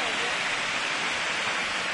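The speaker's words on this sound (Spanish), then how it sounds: "Cascada La Concepción, municipio de Aculco, Estado de México." La Concepción waterfall in Aculco, State of Mexico, pours as a steady, dense roar of falling water, constant and full with no breaks, heard alone.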